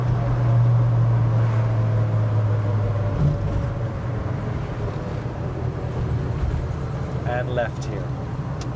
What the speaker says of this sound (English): This engine sound is just so sweet.